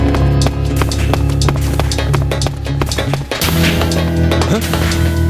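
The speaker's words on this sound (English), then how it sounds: "I heard footsteps." Footsteps in the stealth video game Metal Gear Solid 3: Snake Eater, a quick run of clopping, hoof-like steps over a tonal game soundtrack, loud and close throughout.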